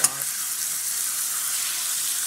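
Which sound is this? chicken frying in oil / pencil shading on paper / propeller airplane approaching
chicken frying in oil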